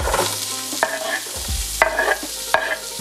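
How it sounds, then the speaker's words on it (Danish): Onions fry in oil inside a pot for butter chicken, giving a steady close sizzle with a few sharp stirring scrapes and clatters at regular intervals, and no voices. "Så nu hvor vi skal stege løgene, så steger det i den samme gryde."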